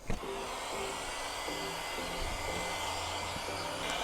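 A heat gun blows a steady, even hiss of hot air onto an aftermarket body kit part being fitted to a Mercedes GLS, close by and continuous for the whole stretch with no talk over it.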